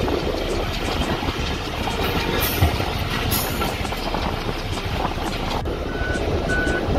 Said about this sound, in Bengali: এখান দিয়ে যখন ট্রেন চলে প্রচণ্ড জোরে আওয়াজ হয়